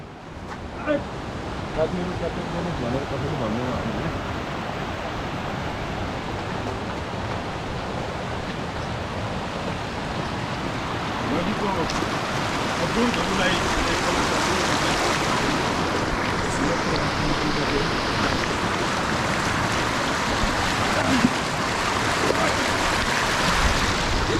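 A river rushes in a continuous loud wash during a crossing on a mountain trail, steady broadband flow filling the whole stretch with no pauses.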